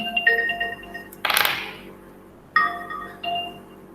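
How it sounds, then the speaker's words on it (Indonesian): A phone rings with a short electronic ringtone during a mobile software lecture, the tonal bursts repeating in a few brief phrases, fairly close and clear, with a louder noisy burst in the middle and no talk over it. "Bentar, ada telepon sebentar."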